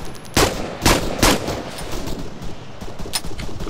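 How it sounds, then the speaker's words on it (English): Gunfire in the military video game Arma 3 on Stratis: several loud, sharp shots spaced about half a second apart, then a run of quicker, lighter shots and distant cracks. "Okay, open fire."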